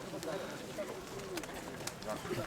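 Pigeons coo faintly at an outdoor fair market in Berdychiv, soft low calls buried under a steady crowd murmur and nearby talk.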